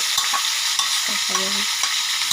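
Onions frying in butter in a pan, a steady close sizzle with a few stirring scrapes and a brief tonal clink partway through, no voices.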